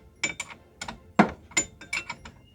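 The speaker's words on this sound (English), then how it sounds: "now I'm going to tighten in the two bolts and that hold the shocks into place" A ratchet wrench tightens the bolts holding vehicle shock absorbers into their mounts, giving about eight sharp, close bursts of metallic clicking in an uneven rhythm, with no talking.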